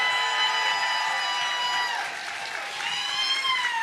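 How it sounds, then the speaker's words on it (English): Sustained audience applause fills a live political evening show, dense and steady throughout with scattered cheering voices mixed into the crowd noise. "Let's give them a round of applause."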